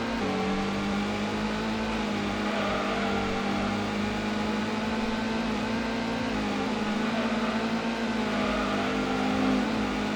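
A Mitsubishi GTO engine drones steadily while racing in the video game Gran Turismo 1 during a four-wheel-drive challenge, a constant, even, slightly buzzing tone held throughout.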